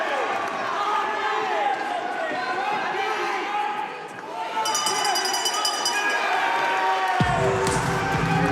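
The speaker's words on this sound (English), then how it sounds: "the Scottish crowd are definitely responding to that as well" Scottish crowd at a boxing bout cheering and roaring steadily as a continuous broad wash, with a commentator talking over it and sharp ringing clangs partway through.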